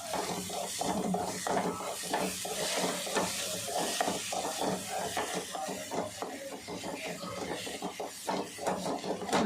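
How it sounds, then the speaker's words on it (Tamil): Egg fries in a pan over raised heat while being stirred nonstop, giving a continuous sizzle under quick, rhythmic scraping and light clinks of a spoon against the pan, close up and with no speech. "நம்ம கையை விடாமல் கிண்டணுன்னா முட்டை பொடி மாசு மாதிரி ஆயிடும்"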